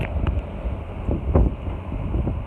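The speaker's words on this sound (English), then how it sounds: "It's a little windy out today" Wind gusting across a balcony on a warm day, buffeting the microphone in low rumbling surges with a few sharper gusts, close and fairly loud with no talking.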